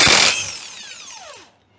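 Short whine of a power tool spinning bolts out to free gears on an engine, loud at first, then sliding down in pitch as it winds off and stops.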